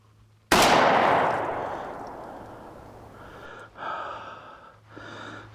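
A single loud gunshot from a Ruger GP100 revolver firing a stout .44 Special load booms once, then rings into a long echo, followed by faint breathing.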